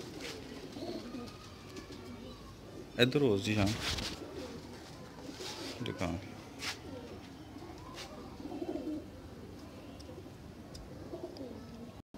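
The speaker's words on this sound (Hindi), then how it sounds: "दोस्तों एक नील दुंबा जा कबूतर है" Sialkoti pigeons coo softly in a quiet loft, low rolling calls repeating throughout, with a few short bursts of voices and handling noise nearby.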